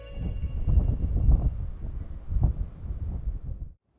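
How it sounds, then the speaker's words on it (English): Strong wind buffets the microphone in heavy, gusting rumbles during an outdoor shooting day, loud and continuous, cutting off abruptly at the end. "It's bloody windy, isn't it?"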